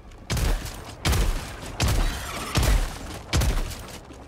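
Rifle fire in Helldivers 2 arrives as five loud, heavy shots spaced at roughly even intervals, each a booming crack with a short decaying tail and no talking between them.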